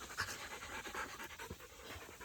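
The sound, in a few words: dog panting, German Shepherd mix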